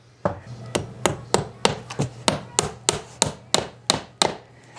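About a dozen sharp hammer blows strike wood in a steady rhythm, close and loud, each with a short ringing decay over a low hum.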